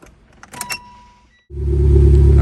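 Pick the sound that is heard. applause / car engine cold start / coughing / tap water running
car engine cold start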